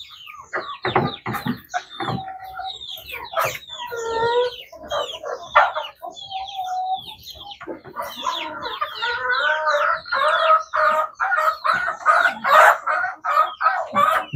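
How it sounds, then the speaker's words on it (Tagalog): Chickens clucking and calling close by in a continuous series of bursts, with brief squawks and rapid repeated clucks, growing busier toward the end. "Yung mga manok natin,"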